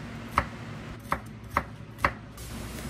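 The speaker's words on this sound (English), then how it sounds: "We then slice up our onion, mince our garlic," Onion being sliced and garlic minced for a keto pizza, four sharp knife chops on a cutting board spaced about half a second apart, close and clear over faint background hiss.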